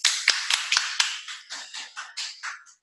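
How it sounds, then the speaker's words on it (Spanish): A few close, bright hand claps sound for a speaker at the end of a pediatric online training session, about a dozen quick strikes that thin out and stop within three seconds. "Un gran aplauso para usted."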